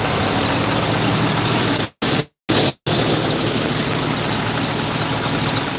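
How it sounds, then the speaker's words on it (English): A John Deere 5075E tractor engine idles nearby with a loud, steady diesel rumble, broken briefly by a few short dropouts before resuming unchanged. "This is our biggest tractor here."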